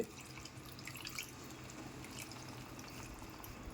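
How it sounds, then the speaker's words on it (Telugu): Water pours steadily into a pot of potato and tomato curry with a faint, continuous splashing trickle, quiet and without speech. "ఒక గ్లాస్ వాటర్ వేసేసుకున్నా"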